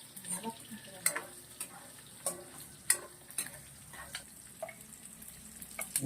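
Ingredients for Ilocano dinuguan are stirred and fried in a pan, with a soft sizzle under intermittent scraping and clinking of a utensil against the pan, fairly quiet and close.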